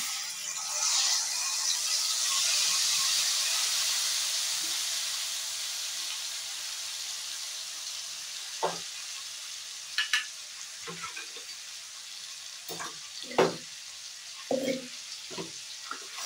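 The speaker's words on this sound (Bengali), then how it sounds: "টক দইটা দিয়ে ভালো কষানো হয়ে গেছে" Spice masala sautéing with two spoons of whisked sour yogurt in a pan for a restaurant-style matar paneer, a strong steady sizzle that fades, then sharp spatula scrapes and knocks against the pan.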